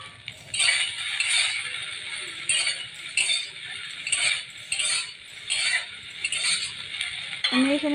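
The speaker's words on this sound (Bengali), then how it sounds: "তারপর কিছু সময় আবার এটাকে লাড়িয়ে চাড়িয়ে নেব। ভালো করে ভেজে নেব।" Soybean chunks are stirred and fried in a pan, with a close spatula scraping and clinking in irregular bursts over a soft background sizzle.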